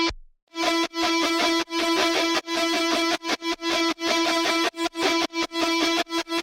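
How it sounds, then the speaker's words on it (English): A picked electric guitar runs through a distortion effect chain with EQ and a stereo widener, playing a bright, repeating melodic line in choppy, rhythmic bursts with sharp gaps between the notes. "Picking guitar."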